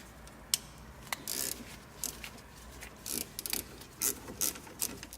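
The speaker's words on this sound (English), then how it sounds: "next I'm going to remove these two caliper bolts." A hand ratchet turns the bolts of a car's brake caliper, giving quiet, close bursts of rapid clicking that start and stop in short, irregular strokes.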